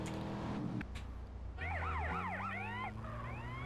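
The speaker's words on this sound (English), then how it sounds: "Is it always the same ambulance, Rob?" Ambulance siren in GTA San Andreas, a rapid wailing yelp that sweeps up and down over a low engine hum, preceded by brief game noises, clear and fairly loud.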